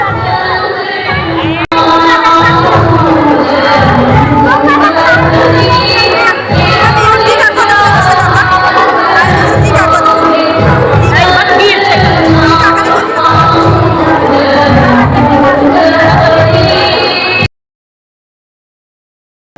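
Dense crowd of devotees at a village Vasanti Durga Puja temple in Kharajpur as the shrine doors open: loud, continuous chatter and shouting with cheers, a rhythmic pulsing undertone, and an abrupt cut to silence near the end.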